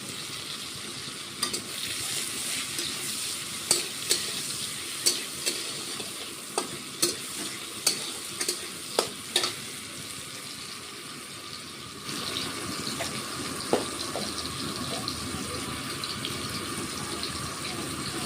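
Chopped tomatoes frying in a pabda fish curry with potato and eggplant, a constant sizzle broken by a run of sharp spoon knocks and scrapes against the pan, then steadier frying alone.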